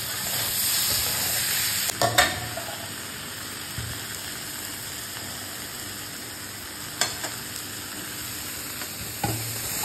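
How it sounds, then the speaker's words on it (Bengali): Vegetables and tomato sautéing in a pan for khichuri, with a steady close sizzle and a few sharp scrapes and knocks of a stirring spoon, no talking. "সবজিগুলো কষিয়ে দিন, তারপরে টমেটো শুধু ড্রাই দিয়ে দিলেও হবে।"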